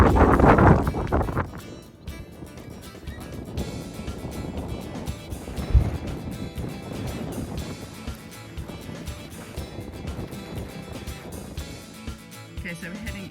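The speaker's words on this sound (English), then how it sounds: "But it's very exposed and windy." Wind buffeting on an exposed mountain ridge in light rain, a steady low roar with gusty swells and one sharp blast near the start, a voice speaking under it.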